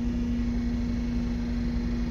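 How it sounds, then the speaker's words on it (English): An air compressor runs steadily at a farm during harvest, a loud constant drone with a strong mechanical hum and broad rushing noise throughout, no voices. "This air compressor that's behind me, it's quite loud."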